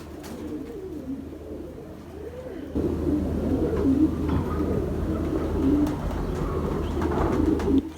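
Young Black Horse racing pigeons in Lahore coo close by, with soft repeated throaty calls that grow fuller partway through over a low background hum.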